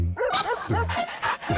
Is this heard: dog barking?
yes